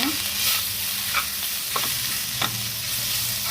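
Grated raw mango thecha with garlic fries in a pan, giving a steady close sizzle with scraping stir strokes every second or so. No one speaks.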